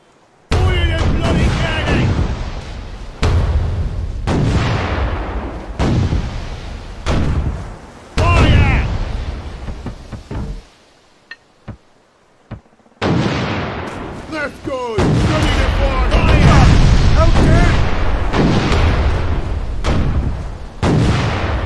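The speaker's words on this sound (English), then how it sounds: "Cannons ready." Ship cannons fire in the pirate video game Furious Seas as a run of loud, close booms and heavy thuds with brief pauses between volleys, and a short near-silent gap near the middle.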